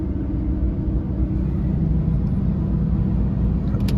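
A 2000 Dodge Dakota quad cab with a 4.7 V8 and four-wheel drive drives along, heard from inside as a steady, loud low engine and road rumble with no talking.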